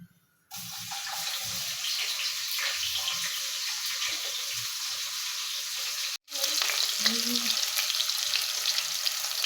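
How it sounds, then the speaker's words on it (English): Onions frying in a pan with cracked cumin seeds for a carrot and butter bean dish, a steady loud sizzle running almost throughout, briefly dropping out twice, with faint clatter of stirring. "So once the cumin seeds have cracked, I'm going to be adding in my onions."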